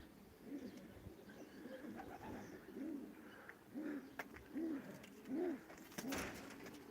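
Several pigeons coo in a loft, soft rounded cooing calls repeating about once a second, including an aggressive male. The calls are faint and nearby over a quiet background, with a few light clicks and rustles.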